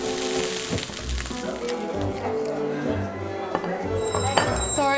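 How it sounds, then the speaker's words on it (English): A bright bell chimes near the end over a busy room with people talking and a sizzling, clattering background. "Obnoxious bell, sorry."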